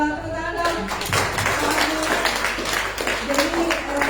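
Seminar audience applauding during a question-and-answer session on keto fitness: steady, dense clapping from a crowd lasting several seconds, with voices and laughter audible beneath it.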